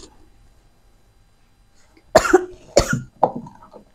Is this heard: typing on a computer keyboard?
no